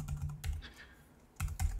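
Keystrokes on a computer keyboard while entering commands during a Linux installation, two short bursts of clicky typing separated by a quiet pause, no voices.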